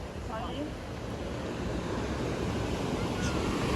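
Ocean surf at Bronte Beach in Sydney, a broad steady roar of breaking waves with heavy wind buffeting the microphone, loud and continuous.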